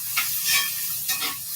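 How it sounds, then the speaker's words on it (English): Mushrooms sizzle in a frying pan as they are stirred, making a steady close hiss broken by a few short scraping stir sounds, with no talk. "These mushrooms are about done in the pan."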